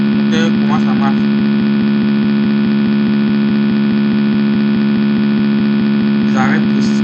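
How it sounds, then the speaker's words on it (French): An electric motor switched on in forward rotation gives a steady, continuous hum for the whole stretch, with a couple of brief voice sounds over it. "On appuie sur S3, le moteur commence à marcher."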